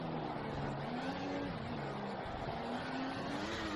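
A Formula 1 car engine in the racing video game F1 2014 drones at a steady high pitch that rises and dips slightly with throttle, under a constant hiss, with no talk over it.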